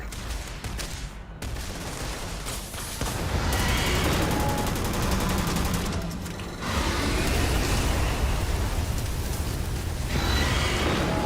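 Dense, sustained gunfire from the video game Starfield, with loud overlapping bursts over a steady rumble that swells and continues for several seconds without speech.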